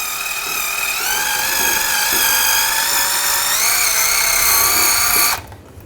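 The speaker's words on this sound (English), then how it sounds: "I'm just going to take a wire brush, just clean this area out." A nylon wire brush scrubs around the crankshaft position sensor area on a 2004-2009 Toyota Prius, giving a steady, loud, high whirring tone that runs continuously for about five seconds before cutting off abruptly.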